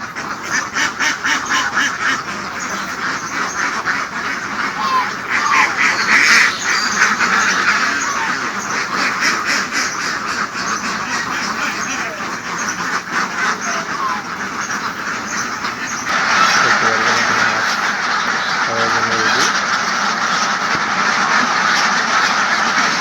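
A large flock of ten-month-old Khaki Campbell ducks on a farm quacks continuously, a loud, dense overlapping chorus close by with rhythmic bursts and no pause throughout.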